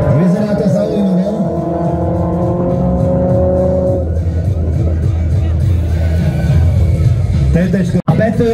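Turbo petrol and turbo diesel race cars, an Audi TT against a first-generation Golf, roar loudly at Slovakiaring, engines droning and revving continuously with crowd babble underneath.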